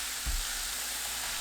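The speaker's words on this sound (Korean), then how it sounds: "지글지글 소리나면 중약불로 낮추고 1분 더 볶아주세요." Minced garlic, onion and green onion frying in olive oil in a pan, a soft steady hiss of sizzling with a faint thump early on.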